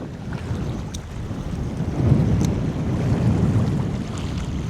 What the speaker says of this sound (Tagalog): Malakas yung hangin eh.